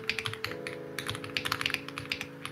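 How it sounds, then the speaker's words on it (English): Rapid typing on a computer keyboard, a quick irregular patter of light key clicks over a faint steady hum, fairly quiet and close. "Whose keyboard is that?"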